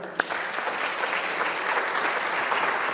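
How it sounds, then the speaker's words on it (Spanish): A church congregation claps in steady, fairly loud applause that stays even from start to finish, opening with one sharp knock, no talk. "Denle un aplauso al Señor."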